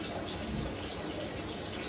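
Hot water gushing steadily from a tap while a boiler fires up, a continuous close hiss and splash with no break.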